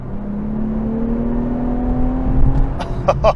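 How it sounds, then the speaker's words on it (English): A 2023 Infiniti Q50 Red Sport engine pulls hard in third gear, its pitch climbing steadily as it accelerates, loud and close, ending with a few sharp clicks of the paddle shifters. "the engine sounds excellent"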